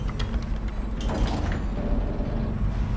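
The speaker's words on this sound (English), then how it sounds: "I'm gonna guess this just closes the door." A heavy door in Dishonored sliding shut after a lever is pulled, a mechanical clank followed by a grinding rumble, close and fairly loud over low background hum.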